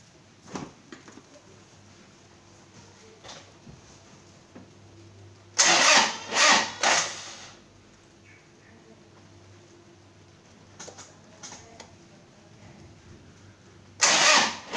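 A car engine with a weak, flat battery cranks slowly in a few short, strained bursts around the middle of the clip and once more at the end, with quiet pauses in between.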